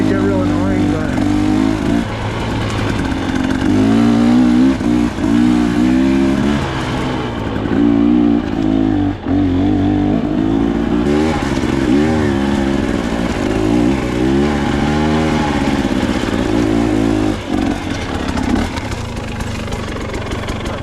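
A dirt bike engine drones and revs while riding alpine singletrack during trail cutting, its pitch rising and falling continuously with throttle changes, close and loud throughout, with voices talking over it.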